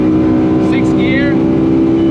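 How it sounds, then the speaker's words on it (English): Honda Civic EJ1 with a swapped K20 engine held at the rev limiter in sixth gear during a Nürburgring lap, a loud, steady droning engine tone filling the whole moment up close. "Maxing out the sixth gear. And we're in the rev limiter."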